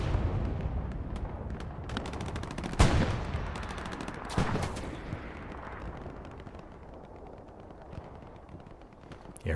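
MG-34 machine gun fire in the World War II shooter Hell Let Loose, with rapid bursts and a couple of heavy booms early on, then fading into a quieter battlefield rumble.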